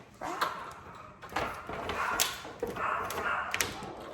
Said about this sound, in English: Why is she barking?